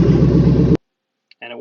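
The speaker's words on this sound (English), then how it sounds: "So this is just open exhaust headers, and this is how loud it is." Dodge Charger with an LS swap engine running through open exhaust headers, a loud, dense, harmonic roar for under a second that cuts off abruptly, followed by a brief fainter burst of sound.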